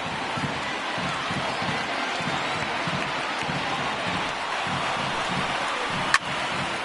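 A baseball stadium crowd of over 31,000 rises at Oakland Athletics versus Los Angeles Angels, a loud continuous roar of cheering and clapping that fills the whole stretch, with a single sharp knock near the end.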